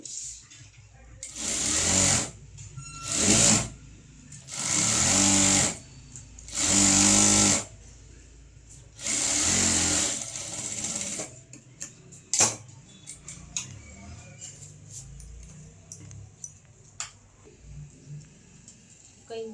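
A sewing machine stitches a blouse in five loud, close bursts of rapid whirring, each a second or two long. Quiet ticks and clicks of handling follow between and after the bursts.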